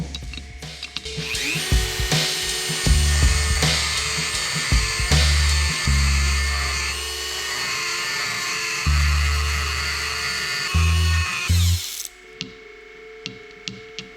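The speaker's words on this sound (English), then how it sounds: "So I'm gonna grind down a bit of a dip down where the back of the flap lands, so it has more opening space." A power grinder cuts into the flap seat of a cheap MK turbo's wastegate for a 1.6L Miata, running loud and continuous with pulsing bursts of metal grinding, then stopping abruptly near the end with a few clicks.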